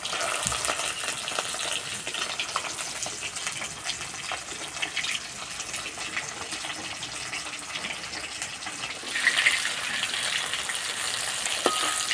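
Fish and red lentil fritters fry slowly in hot oil in a pan, a steady close sizzle and crackle with brief louder spatters, and no talking.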